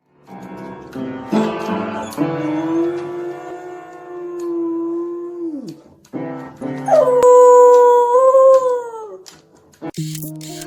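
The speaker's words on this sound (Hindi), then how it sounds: "आपने किसी कुत्ते को पियानो बजाते हुए और गाते हुए सुना है?" A dog howls long, wavering notes alongside piano notes, with rising and falling sustained cries that break off and return louder near the end, close and strong.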